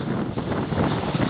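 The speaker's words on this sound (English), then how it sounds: "this time I also got 30-35 knots of wind, but at least seas are not too rough today" Strong 30–35 knot wind roars across the microphone aboard a solo sailboat at sea, a steady, loud broadband rush with gusty swells and no voices.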